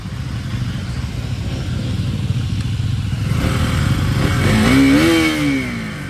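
A motorcycle engine rumbles steadily nearby, swelling as it revs and pulls away, with the pitch rising toward the end.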